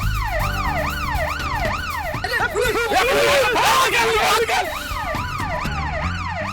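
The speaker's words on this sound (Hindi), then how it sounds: "अभी अभी यहाँ पुलिस की गाड़ी आ गई है।" A wailing siren sweeps up and down repeatedly, close and loud, while a crowd murmurs and voices talk beneath it.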